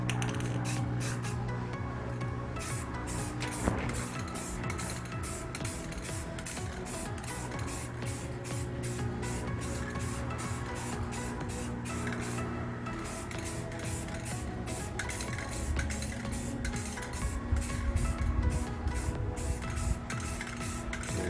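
Spray coating bursts out in a continuous hiss of even strokes, about six inches from a Jeep Grand Cherokee ZJ body, applying body armor in light coats. It is pulsed by repeated nozzle passes, with wind noise outdoors.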